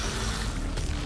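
A short mechanical weapon reload in Returnal, a dense clicking, ratcheting burst of metallic parts set against loud, busy game noise.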